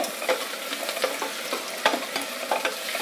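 Onions sizzle steadily in a hot pan, salted and sautéing toward golden for a beetroot and peas biryani, with irregular spatula scrapes and stirring clicks over a constant frying hiss and no talking.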